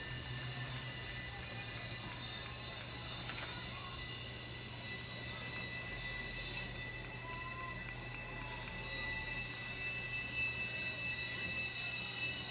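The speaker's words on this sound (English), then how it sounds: "there is a train going on, or at least coming to a screeching halt beyond the outfield fence" A train grinds to a halt beyond the outfield fence at a college baseball game, a steady metallic screech with high sustained tones over a constant low rumble, heard at a distance without any talk.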